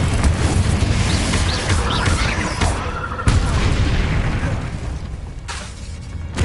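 Spell blasts from the Hogwarts Legacy video game, a dense run of booming explosive bursts that roll one into the next, loud and close, with a few sharper pops standing out over a constant rumbling bed.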